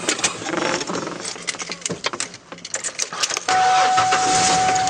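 An 18-year-old car is started up. Rattling and shuffling noises come first, then the engine catches about three seconds in and settles into a loud, steady, close idle.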